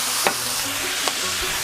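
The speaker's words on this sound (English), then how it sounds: "Now you gotta make sure that you mix everything well together" Fried rice with peas and soy sauce gets mixed in a hot pan, a continuous sizzle broken by a couple of sharp scrapes and clinks of a utensil against the pan, close and alone without speech.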